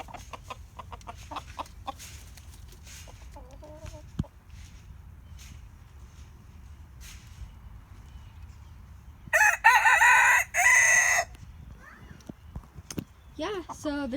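A rooster crows loudly once at mid-distance in a backyard chicken coop, a bright sustained call standing out above faint clucking and scattered background noise, with a few short bird calls near the end.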